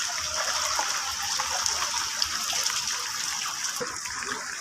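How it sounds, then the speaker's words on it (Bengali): Heavy rain pours down steadily with floodwater gushing and splashing nearby, a dense continuous wash of water noise filling the whole stretch without pause. "আজকে সোলা ভয়ঙ্কর বৃষ্টি"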